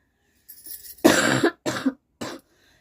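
A person coughs several times in a row, close and fairly loud, with short pauses between the harsh bursts.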